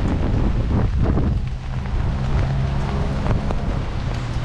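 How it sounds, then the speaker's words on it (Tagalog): Strong wind buffeting the microphone, a continuous low roaring rumble with gusty swells, no voices. "Grabe lakas ng hangin"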